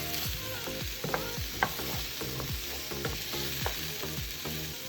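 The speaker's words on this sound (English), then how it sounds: "I'm just sauteing the meatballs, mushrooms, onions, and garlic all together" Meatballs, mushrooms, onions and garlic sautéing together in a pan, a steady sizzle broken by regular scraping stirs and a couple of sharper clacks, close and with no voices.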